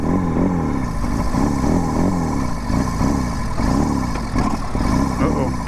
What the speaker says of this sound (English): I feel like a Harley brother revving my engine like this.